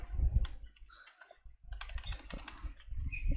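Up-close typing on a computer keyboard gives a series of quick key clicks in two bursts separated by a short pause, with low desk thumps underneath.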